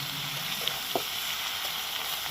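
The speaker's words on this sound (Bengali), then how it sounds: "এটা ভালো করে ভেজে নিতে হবে" Potato and eggplant frying in oil in a wok, a steady soft sizzle throughout with a couple of brief clinks of a utensil, no talking.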